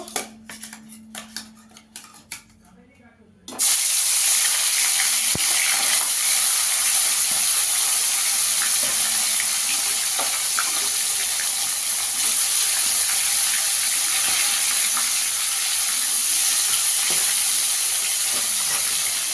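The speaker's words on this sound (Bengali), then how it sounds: "এবার মাছগুলোকে ভেজে নেব" Bhola fish frying in hot oil in a wok, a loud, steady sizzling hiss that bursts in abruptly after a few seconds of quieter clatter and continues unbroken.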